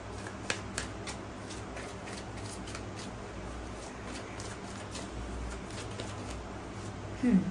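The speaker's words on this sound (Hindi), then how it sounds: "चलिए एक और कार्ड लेते हैं" A tarot deck is shuffled and a card drawn, giving a soft, continuous papery riffle over a steady room hum, close and fairly quiet, with a brief louder rustle near the end and no speech.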